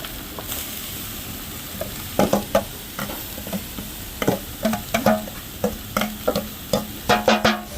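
Onions and curry leaves sauté in a pan, a constant sizzle broken by repeated sharp spatula scrapes and taps against the metal, close and alone with no voices.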